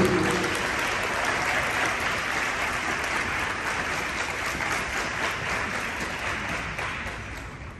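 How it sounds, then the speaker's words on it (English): An audience at a high school aviation symposium ceremony gives sustained, dense applause, loud and steady throughout, slowly tapering near the end. "y'all please give him a round of applause"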